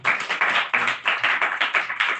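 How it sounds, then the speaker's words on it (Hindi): A live audience claps together in a lecture hall at a religious talk, giving about a dozen loud, sharp, evenly spaced bursts in a steady rhythm with no talk over it. "गजल के लिए एक बार जोरदार ताली।"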